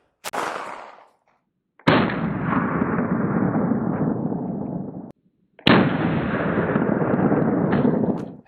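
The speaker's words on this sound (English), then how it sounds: "Going a little bit faster this time with some 115 grain Minuteman munitions coming through the Walther PDP compact here." A Walther PDP compact pistol fires 115 grain Minuteman rounds at Battle Steel Level IIIA+ body armor: three loud, sharp shots, the last two each followed by seconds of booming rumble and echo outdoors.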